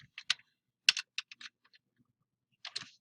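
Short bursts of keystrokes on a computer keyboard while entering a number into a spreadsheet, a few crisp clicks then a pause before a final cluster, quiet and close.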